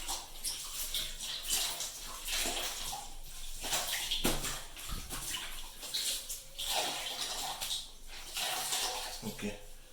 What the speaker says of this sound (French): je vais essayer de rincer un peu mon torchon. Il est vraiment sale. Je vais le rincer un peu comme ça.